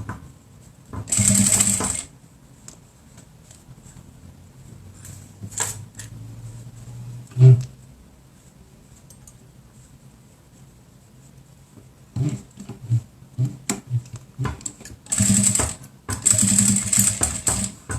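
A sewing machine backstitches a 3D cloth face mask in several short, loud bursts of fast needle chatter, separated by quiet stretches with clicks and fabric handling, with no talking.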